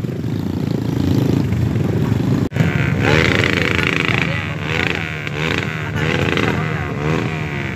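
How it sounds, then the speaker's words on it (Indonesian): An automatic scooter motorbike engine drones loudly nearby on an outdoor nature trail in Latemmamala, Soppeng, with a steady rising and falling hum while people talk and exclaim over it. "Ada motor metik."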